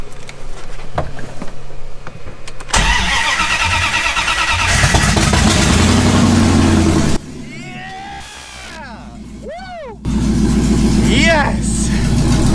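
A Jeep ZJ V8 engine, just after a crank position sensor change, cranks briefly, catches and settles into a loud rough running rumble, then blips and revs, with voices talking over the engine.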